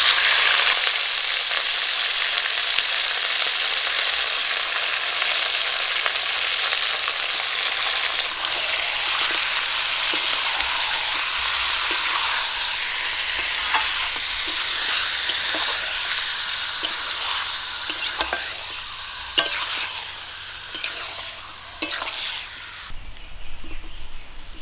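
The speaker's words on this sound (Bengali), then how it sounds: "কুমড়ো ভাজার তেলেই আমি চিকেনগুলো দিয়ে দেবো।" Chicken pieces frying in the oil left over from frying pumpkin, a loud, continuous hiss and crackle that holds steady throughout with occasional sharper pops, then softens near the end.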